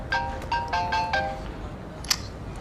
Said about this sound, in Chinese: 啊，电话。